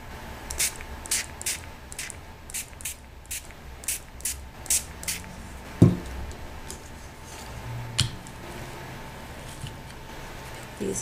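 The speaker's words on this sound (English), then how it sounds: "A little spray." A spray bottle mists liquid onto paper heart doilies in a crafting session, about a dozen short, crisp hissing bursts in a steady rhythm, close and fairly loud, followed by a couple of soft knocks.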